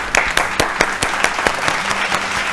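An audience on a family game show gives a steady round of applause with distinct individual claps in a brisk rhythm, moderately loud and with no talking over it.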